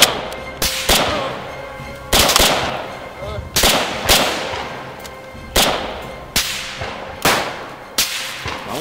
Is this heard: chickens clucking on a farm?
no